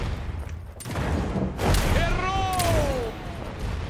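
Rapid bursts of gunfire in the video game Realm Royale, with booming impacts and whistling ricochets, loud and close, mixed with a faint voice.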